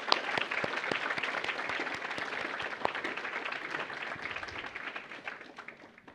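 Crowd applause at a school career and technical education signing day, honoring a student joining the Air Force: sustained, fairly distant clapping from an audience, even and moderately quiet throughout.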